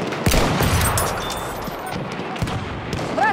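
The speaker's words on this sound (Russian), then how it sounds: "Пулемет!" Battlefield 1 on PS4, a World War I shooter battle in the Łupków Pass, with dense rapid machine gun fire and overlapping gunshots loud and close throughout, under chaotic battle noise.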